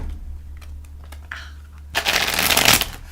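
Tarot cards being shuffled by hand: a few soft taps and handling noises at first, then a loud, dense riffling burst near the end, with no talk.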